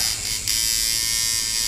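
A Sidewinder coil tattoo machine runs with its stroke being adjusted, giving a steady, close electric buzz that keeps going for the whole stretch, with a brief shift in tone near the start.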